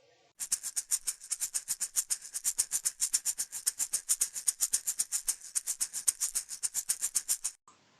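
Maracas shaken in a steady, fast rhythm, crisp bright rattles repeating evenly for several seconds, close and clear with no other sounds.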